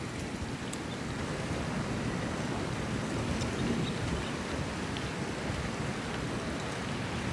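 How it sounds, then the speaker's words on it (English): Strong wind roars steadily across a campsite and buffets the microphone, a dense, constant low rumble with no pauses and no voices. "that wind is crazy"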